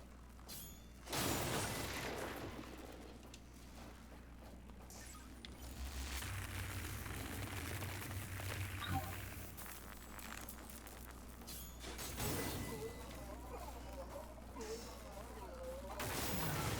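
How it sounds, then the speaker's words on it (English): A defeated enemy explodes in The Surge 2 action game, with sharp booming blasts near the start and again later over a low rumbling game backdrop, fairly faint overall. "Oh, he was still exploding."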